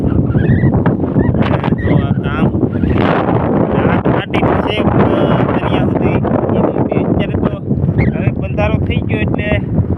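Herons and other migratory birds honk and call around a dried-up reservoir near a creek in the evening. The calls come through dense wind noise buffeting the microphone, and a voice talks over them for much of the time.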